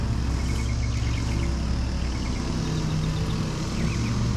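A nearby 2007 Jinma AK2940 tractor engine rumbles continuously with a steady low drone, faint birdsong in the background.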